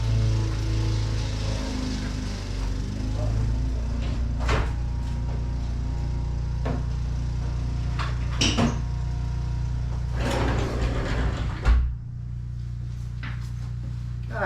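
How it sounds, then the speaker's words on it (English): A lawn mower drones steadily in the background while a door and cupboard clatter and thump nearby. "They just started up the damn lawnmower."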